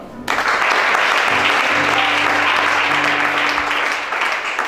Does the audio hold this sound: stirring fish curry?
no